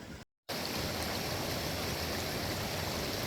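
A mountain river in the Trinity Alps rushes in a dense, continuous roar nearby, a steady broadband wash of flowing water that cuts out briefly at the start before resuming unbroken.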